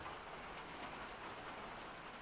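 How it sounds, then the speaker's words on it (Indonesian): Rain falls steadily at 3 a.m., a faint, even hiss with soft patter on a surface that stays constant throughout, with no voices. "Nah, ini sudah mulai hujan turun."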